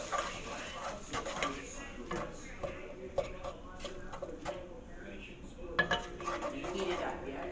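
Ham and spices being stirred with a spoon in a pot for gandule rice, heard as irregular metallic scrapes and clinks under a low kitchen background, fairly quiet and close.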